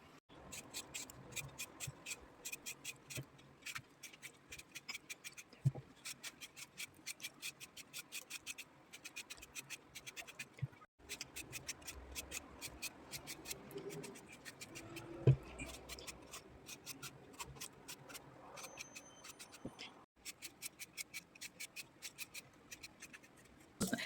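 Cucumbers being peeled and trimmed by hand for a winter salad, giving a steady run of close, quiet scraping and scratching strokes with brief pauses, no talk.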